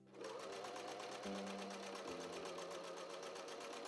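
A sewing machine runs in one continuous burst, stitching the lining of a Victorian-style dressing gown, with a steady fast mechanical whir that shifts slightly in pitch midway, close and alone.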